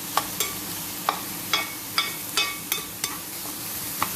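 Ginger and garlic frying in a pan over low heat for spicy spare ribs, a steady soft sizzle broken by about ten sharp spoon-on-pan scrapes and taps in an irregular rhythm, close and fairly quiet, with no talk.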